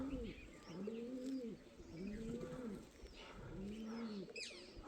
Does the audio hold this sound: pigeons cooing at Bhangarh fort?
yes